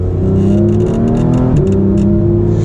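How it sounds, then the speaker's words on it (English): A 2016 Porsche GT3 RS engine drones, then its pitch jumps sharply as the PDK gearbox blips the revs to match a downshift into second, loud and close. "now I have to downshift down into second. It's going to rev match you perfectly because it's PDK."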